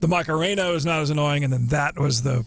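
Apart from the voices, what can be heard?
No distinct noise like a dog, phone or traffic.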